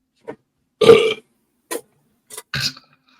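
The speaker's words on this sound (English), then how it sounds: "He kept burping in my ear" Several separate burps from a podcast guest drinking cola, picked up close on a microphone: a short one, a longer rumbling belch, then a few brief ones and a final drawn-out burp, with silence between.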